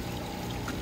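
Water siphoned out of an above-ground Intex 20-foot by 52-inch pool, a steady close pouring trickle with no pauses, fairly quiet and alone.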